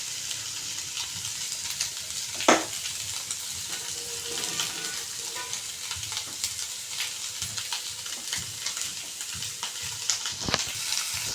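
Fish frying in a pan of hot oil, a loud continuous sizzle with crackles and occasional sharp pops, steady throughout with no talk.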